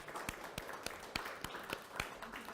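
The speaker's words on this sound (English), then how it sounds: "if we could all give a round of applause for the authors joining us today" Audience applause for the authors at a science-fiction panel: faint, fairly steady claps spaced evenly and blended into a soft wash of hands over a short stretch.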